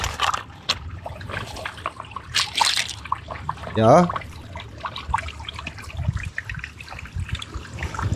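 Filtered, slightly yellowish water is poured to refill a water bottle outdoors at a beach survival camp, trickling and gurgling steadily under voices that talk briefly.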